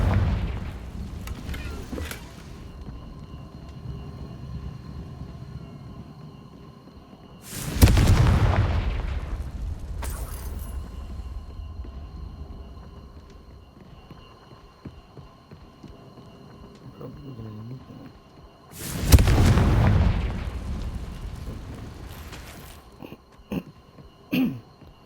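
Confringo explosion spell in Hogwarts Legacy, two loud booming blasts several seconds apart, each with a sharp onset and a decaying rumble over quiet game ambience.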